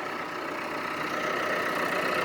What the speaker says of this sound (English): got this old Athens disc, came out of Athens, Tennessee, and an old AGCO tractor, and cutting it in